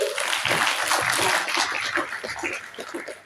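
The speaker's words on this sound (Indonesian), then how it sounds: "Boleh tepuk tangannya lagi?" An audience applauds a general practitioner, Dokter Hanif, during an infection-prevention session for disaster relief posts; a dense, steady wash of clapping fills the room for a few seconds, then tapers off.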